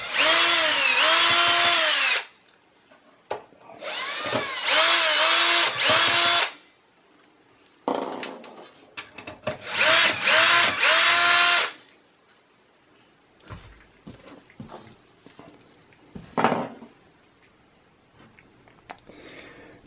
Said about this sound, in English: I'll remove the three screws in the back